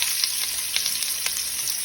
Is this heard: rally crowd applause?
no